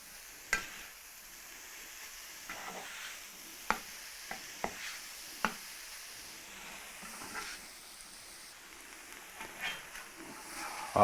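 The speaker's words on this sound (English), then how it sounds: "we'll give this a stir." Spices sizzle in a pan while being stirred, with a steady soft frying hiss broken by several sharp clinks and scrapes of the utensil against the pan.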